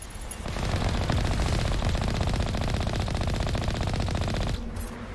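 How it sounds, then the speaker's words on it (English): Sustained rapid automatic gunfire aimed at the Mako armored vehicle in the Mass Effect video game, a dense, loud, continuous barrage that starts abruptly and holds steady for several seconds before cutting off. "Stop shooting my poor mako. Stop shooting at me."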